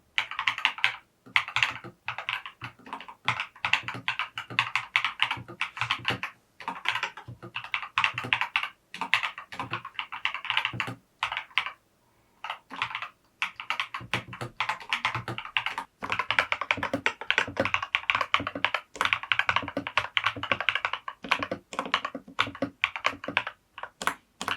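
Typing goes on at a steady pace on a budget custom mechanical keyboard with purple translucent keycaps, a dense run of close, crisp keystrokes broken by a few short pauses, with no voices.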